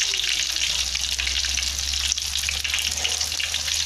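Chicken pieces fry in hot oil with a loud, steady crackling sizzle, close up, and a low hum underneath throughout, with no voices.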